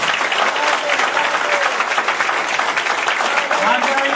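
Sustained applause from an audience at a Karni Sena workers' meeting in Jharkhand, dense steady clapping filling the whole stretch with faint voices mixed in.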